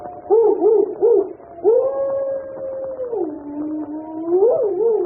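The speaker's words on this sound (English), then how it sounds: "Listen to that dog. He's in an ugly temper." A dog howls on a thunderstorm night in long, wavering, drawn-out tones, rising and falling, loud and clear with nothing else competing.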